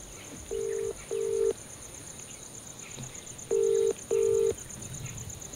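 Phone keypad dialing tones sound while calling an iPhone: four loud, steady beeps in two quick pairs separated by a pause, over a faint background hiss.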